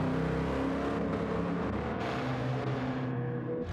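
A race car engine in the Gran Turismo 7 racing game holds a loud, continuous high revving drone with a few brief dips in pitch, heard alone without talk.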